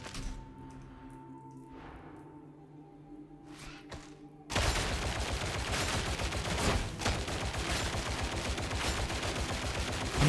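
A recon lasgun fires in Warhammer 40,000: Darktide: a quiet stretch with a few faint shots, then from about four and a half seconds a loud, dense run of rapid energy-weapon fire that keeps going to the end.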